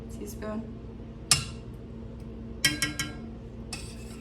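A utensil clinks and scrapes against a pan while sauce is stirred, with a few sharp metallic taps scattered over a low background hum.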